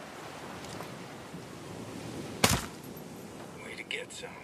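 A single sharp, suppressed-sounding shot in the tactical shooter game Ghost Recon Breakpoint, standing out briefly over a low windy ambience, with faint whispered talk nearby.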